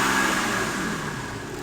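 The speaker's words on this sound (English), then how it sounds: "I'll get my friend to rev it and see if that makes any difference" Diesel engine of a BMW E60 330d with an EGR insufficient-flow fault, running with a steady, dense mechanical drone close by that holds a constant pitch and fades slightly toward the end, with no voices.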